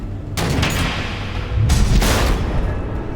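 Missile explosions in the Telltale Batman video game: two heavy, sustained booming blasts, the first near the start and a louder one midway, each rumbling on with crackling debris, close and loud with no voices.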